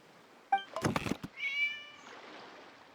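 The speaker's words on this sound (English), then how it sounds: "It was just a cat." A cat meows once in a video game: a short, clear, close meow followed by a longer, drawn-out meow, with no talk over it.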